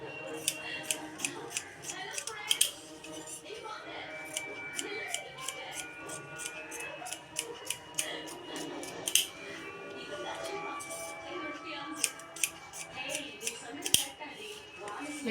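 Metal tailoring scissors cut blouse fabric in a long series of crisp, rhythmic snips, close and clear, with short pauses between runs and a voice talking quietly in the background.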